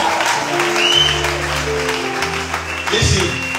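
Church audience applause during a prophet's sermon in Port Harcourt: a steady wash of clapping from a crowd, moderately loud and sustained, with a voice talking over it.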